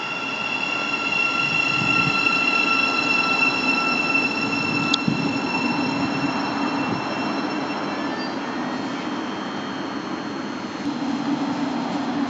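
A Class 700 electric train departs Hatfield on the East Coast Main Line. It is loud and close, with a steady rolling rumble and sustained electric whine running throughout, and nobody speaks.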